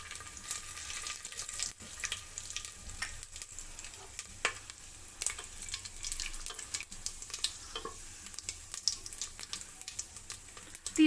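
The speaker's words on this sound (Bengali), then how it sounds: "এখন গোটা গরম মশলাটা দিয়ে দেবো।" Whole garam masala spices frying in hot mustard oil for a Bengali chicken curry, a steady close crackling sizzle running throughout with occasional sharper pops and brief stirring scrapes.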